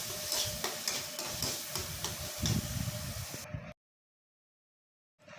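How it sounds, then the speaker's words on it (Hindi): A mixture with turmeric being roasted and stirred in a pan, with a steady sizzle and repeated scraping and tapping of a spoon, then sudden silence before the sizzle returns faintly. "बहुत अच्छे से अब इसको भूनना है।"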